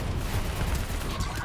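Dense, continuous gunfire from the Black Ops 3 campaign, a loud unbroken barrage of shots with no pauses.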